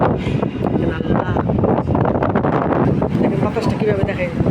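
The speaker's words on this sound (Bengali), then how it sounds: "দেখেন বাতাসটা কীভাবে দেখাই। দেখছেন পর্দা উড়ে যেতেছে একবারে।" Strong gusty wind blows through a house while a curtain flaps in it, heard as a loud, continuous rushing and buffeting roar that fills the whole stretch without a break.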